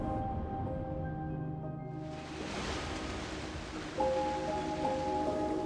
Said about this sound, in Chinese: 一阵海浪